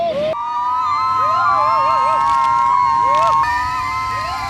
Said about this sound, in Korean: 환호성과 함께 폭포 속으로 들어간다